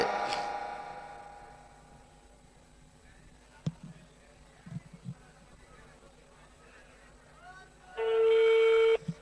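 Faint clicks and soft beeps precede a loud steady electronic tone near the end, like a phone line ringing or connecting.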